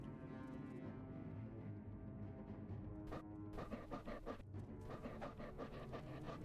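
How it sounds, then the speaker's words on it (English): A werewolf in Morrowind pants rapidly and rhythmically, with faint woof-like bursts partway through, all over a steady bed of game ambience and music at low volume. "He just heard me go woof."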